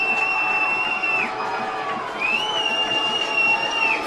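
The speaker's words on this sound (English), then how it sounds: "Fans are whooping it up out here." Football fans in a college stadium at an Eagles game cheering and whooping loudly, a dense crowd roar with shrill sustained whistles and shouts carrying over it.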